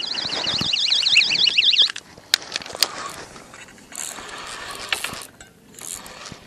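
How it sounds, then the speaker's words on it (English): At a carp-fishing spot on Lake Mead, a rod's electronic bite alarm shrills in a rapid warbling tone for almost two seconds. Sharp clicks and ratcheting reel noises follow as the line runs. "we had our alarm scream and we have a fish on"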